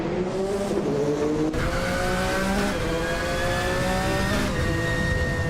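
Race cars including a 1991 Vauxhall Cavalier roar past on a circuit, engines revving through rising gear shifts with layered tire squeal, loud and close, several cars overlapping.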